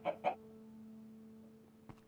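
Two short clucks from a Minecraft chicken open the moment, followed by a steady game-world hum and a faint click near the end.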